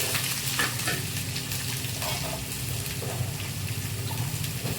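Chopped onion and dried red chillies sizzle and fry steadily in a hot pan, with continuous stirring scrapes throughout and no talking.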